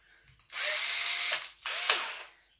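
Power drill with an 8 mm bit boring holes for kitchen drawer fittings, two sustained whining bursts of drilling close by, separated by a brief pause, with no talking.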